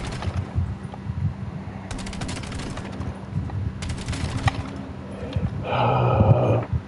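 Rapid automatic gunfire from a gun in the Call of Duty Black Ops 7 video game rattles out in two sharp bursts, followed by other loud game effects, fairly close and with no talking.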